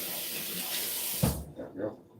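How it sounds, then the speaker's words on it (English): Running tap water rinses a tomato in a home kitchen, a steady close hiss and splash that cuts off partway, leaving faint clatter and soft sounds afterward. "we'll just rinse the tomato off"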